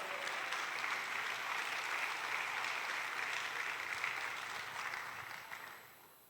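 A church congregation applauds in a sustained, fairly distant wash of clapping that holds steady for several seconds and then tapers away at the end.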